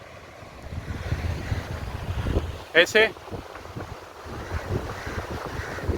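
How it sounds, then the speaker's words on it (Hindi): Steady wind by the sea at Mahim Fort, a low broadband rush buffeting the microphone throughout, with someone speaking briefly in the middle. "यहाँ पर समंदर बहुत ही मस्त हवा चल रही है"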